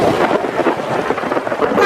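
Steady heavy rain pours down with a low rumble of thunder rolling underneath, continuous and fairly loud throughout.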